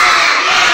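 A crowd of children shouts a loud, sustained "hooray" in unison during a visit to a fire station, a brief burst that fills the space with no other talk.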